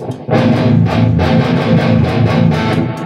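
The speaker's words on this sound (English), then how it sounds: "I'll give you a go at the amps distortion." A guitar through a tube amp's own distortion, loud and saturated, strummed in a steady pattern of repeated chords after a brief quiet start, with no talking.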